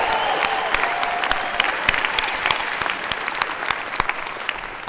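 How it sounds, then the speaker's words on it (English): A large audience at the University of North Carolina at Chapel Hill's 2017 doctoral hooding ceremony claps steadily, a dense, sustained wash of applause with individual sharp claps standing out, holding level throughout. "Yeah, we can clap for that."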